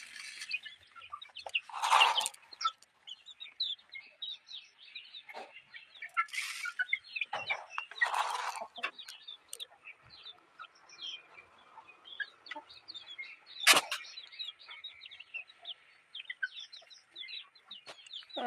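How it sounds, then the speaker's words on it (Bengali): A hen and her chicks cluck and peep faintly nearby, short scattered calls with a few louder bursts over quiet farmyard background. "দেখো এই যে বড় মুরগিটা এই বাচ্চাগুলোকে খেতে দিচ্ছে না"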